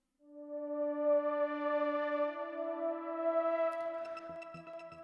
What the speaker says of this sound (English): Normally it would sound like this, just a synth.